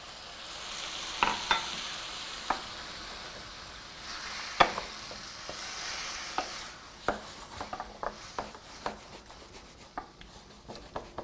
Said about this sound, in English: use that spoon to just scrape up any of those bits